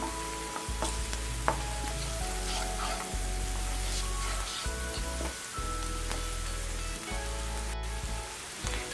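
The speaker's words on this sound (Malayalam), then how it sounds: "സവാള പെട്ടെന്ന് വഴറ്റി കിട്ടാൻ വേണ്ടിയിട്ട് നമ്മൾ എപ്പോഴും ചെയ്യുന്ന പോലെ അല്പം ഉപ്പിട്ട് കൊടുക്കാം." Onions sautéing with salt in a pan, a steady close crackling sizzle with stirring scrapes throughout and no talking over it.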